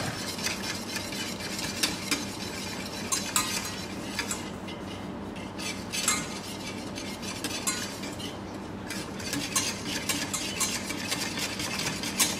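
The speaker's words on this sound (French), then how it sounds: "Je vais tout remettre dans ma casserole et je ne vais pas cesser de remuer." A lemon cream mixture stirred continuously in a saucepan over reduced heat, with a steady scraping and clinking of a utensil against the pan and a faint sizzle underneath, close and without speech.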